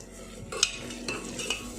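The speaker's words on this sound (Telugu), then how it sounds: "దాని తర్వాత రా వెల్లుల్లి వేసేసుకోవాలి." Raw garlic and onions frying in a pot while a spoon stirs them, heard as a close, steady sizzle with a few soft scraping clinks of utensil against metal over under two seconds, with no talk.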